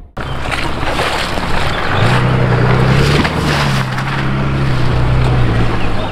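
A Mercedes GLE 350d six-cylinder diesel SUV drives off-road with a loud, steady engine drone and road rumble. A low hum rises in pitch partway through and holds, with no one speaking.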